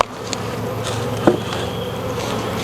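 Honeybees buzz at an opened hive, forming a steady, dense drone close by that holds for the whole stretch, with a brief knock partway through and no talk.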